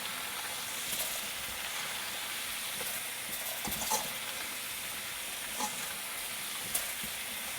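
Onion-tomato masala with a little red chili powder sizzles steadily in a pan while being stirred, a constant frying hiss broken by a few soft scrapes and clinks of the spoon, close and even throughout.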